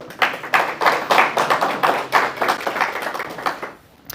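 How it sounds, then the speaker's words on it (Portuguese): A church congregation claps together in a dense, steady burst of applause lasting about four seconds, loud and close, then thins out at the very end. "uma salva de palmas para o Senhor?"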